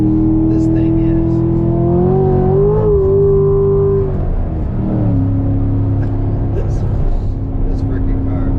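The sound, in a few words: Corvette accelerating hard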